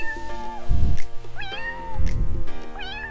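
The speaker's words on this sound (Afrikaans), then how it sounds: "Dirkie stap verder en sien vir Silkie, die katjie wat op die heining sit." A small kitten sitting on a fence meows clearly and close up, giving three distinct rising-and-falling cries with short pauses between them.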